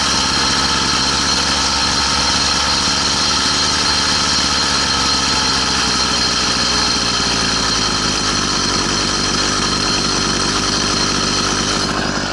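Engine of an all-terrain bicycle vehicle revving high, a steady loud buzzing drone heard close and unbroken throughout, with no talking.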